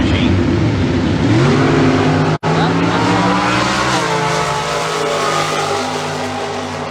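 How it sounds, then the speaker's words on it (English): A Super Stock drag racing car launches hard at the starting line, its engine roaring loudly and climbing in pitch as the tires squeal, with a brief cut in sound partway through before the car pulls away. "Racing machine."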